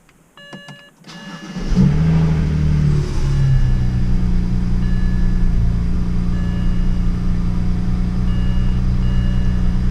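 A BMW 335 with an upgraded intercooler and stage 1+ tune cranks and fires after a near-silent moment, its engine catching with a brief rev, then settling into a steady, loud, close idle with a faint exhaust rattle.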